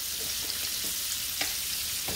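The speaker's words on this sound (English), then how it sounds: "I'm going to put me some onions in here." Diced onion frying in a pan for loaded mac and cheese makes a dense, steady sizzle with faint stirring scrapes, close and continuous, with no voices.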